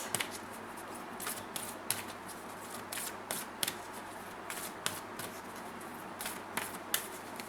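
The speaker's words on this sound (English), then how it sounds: "Let me get you an archangel oracle card" Archangel oracle cards being shuffled by hand make a continuous soft riffling rustle with regular sharp flicks and snaps, close and fairly quiet, with no talking.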